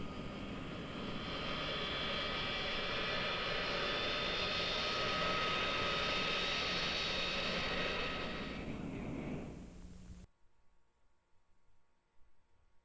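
A jet airliner roars loudly and steadily at a busy airport in an old film soundtrack, the engine noise filling about ten seconds before cutting off abruptly to near silence.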